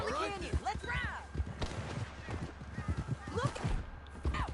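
Horse hooves clip-clop along a trail in the Red Dead Redemption 2 video game, a steady rhythmic trotting heard close under frequent talking.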